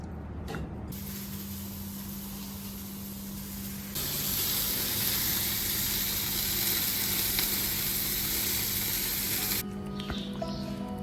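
Food sizzles and spatters steadily in a hot pan, the frying growing louder partway through, with no talking.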